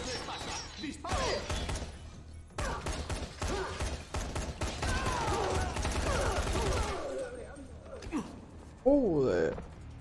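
Rapid bursts of gunfire in the video game Dying Light crackle and clatter for several seconds, with impacts and crashes, while a voice shouts over the action.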